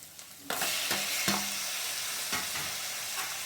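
Tomatoes fry with moong dal in oil for a Telangana-style dal curry, with a steady sizzle that jumps up as they go into the pan, followed by several scraping and knocking stirs.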